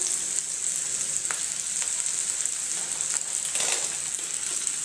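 Green chili peppers frying in hot oil in a pan, giving a steady, close sizzle with a few faint stirring clicks throughout.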